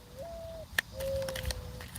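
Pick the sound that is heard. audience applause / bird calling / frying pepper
bird calling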